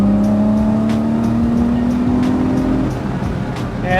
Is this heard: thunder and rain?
no